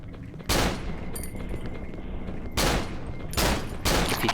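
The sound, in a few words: gunfire in video game Cry of Fear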